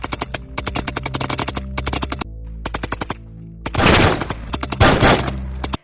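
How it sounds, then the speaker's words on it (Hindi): Rapid machine-gun bursts ring out during an attack on an army camp in a dramatized story, several loud rhythmic volleys separated by short pauses, then heavier explosive blasts near the end. "हमलावर वहां पहुंचकर अंधाधुंध फायरिंग शुरू कर देते हैं"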